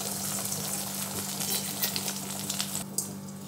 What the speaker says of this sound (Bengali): তেল গরম হয়ে গেছে, আমি এবার ডিমটা দিয়ে দিচ্ছি। আমরা যেরকম ডিম ভাজি সেরকম করেই ভাজব